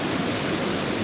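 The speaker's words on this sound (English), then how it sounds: "So there's the waterfalls." Waterfalls at the Fairy Pools on the Isle of Skye give a steady, broad rushing roar, close and constant, with no voices.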